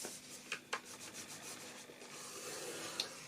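Cardstock being scored for a gift box, a soft, steady scraping rub with a few light taps, quiet and close with no voices.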